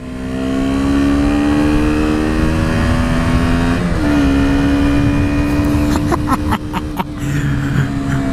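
A KTM Duke 125 motorcycle engine on a ride hums with a loud, close, steady buzzing drone. Its pitch dips briefly midway, then holds while the bike continues under load.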